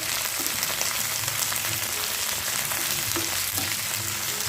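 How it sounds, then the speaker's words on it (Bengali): Pointed gourd peels frying in hot oil with green chillies in a pan, a steady dense sizzle with soft crackles throughout, close and continuous with no talking. "তো পটলের খোসাটা একটু ভাজা করে নেব"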